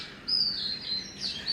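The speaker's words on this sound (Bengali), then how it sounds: "পাখি ডাকছে, আওয়াজ শুনতে পাচ্ছ?" Several short, high tweets from birds near a balcony at dawn, after overnight rain, come in brief clusters against a calm, hushed backdrop, with no voices.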